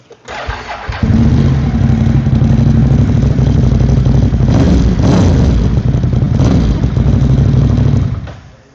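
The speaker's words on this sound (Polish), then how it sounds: "brzmienie tego motocykla" A Moto Morini X-Cape 1200 twin-cylinder motorcycle engine fires up and runs loud and close, with a throbbing, uneven idle and a few blips of the throttle before it cuts off.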